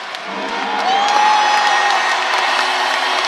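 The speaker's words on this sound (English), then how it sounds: "look at the crowd erupt" A large arena crowd at a world judo championship roars and cheers in a sustained, dense wash of applause and shouting, loud and close with a whistle-like whoop rising through it.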